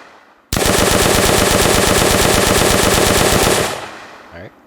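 Rapid automatic weapon fire from an Unreal Engine zombie shooter game, a loud sustained burst of evenly spaced shots lasting about three seconds before cutting off, followed by a short mechanical click.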